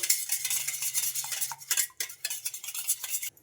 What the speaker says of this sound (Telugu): ఇప్పుడు ఇలా విస్కర్ తోటి బాగా బీట్ చేసుకోవాలి